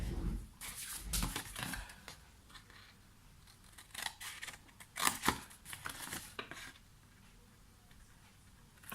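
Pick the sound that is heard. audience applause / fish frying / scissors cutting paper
scissors cutting paper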